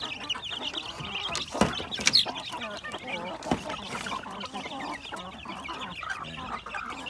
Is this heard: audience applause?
no